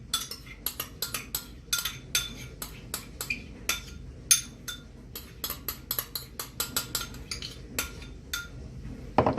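A utensil clinks quickly and repeatedly against a bowl while three eggs are mixed with sugar and vanilla sugar for tiramisu cream. The strokes come close and uneven, with no speech.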